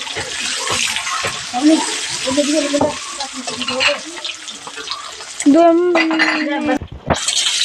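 Onions frying in a pan, a loud close sizzle with clattering stirs and utensil knocks, while a voice talks over it throughout.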